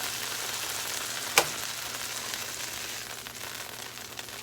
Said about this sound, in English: the pork tenderloin is nice and seared